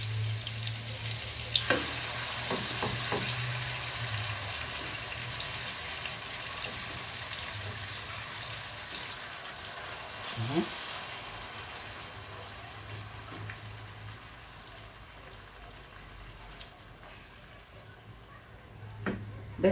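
Shish tawook chicken frying in a pan, a steady soft sizzle with a few clinks and stirring knocks scattered through it, close by and unbroken.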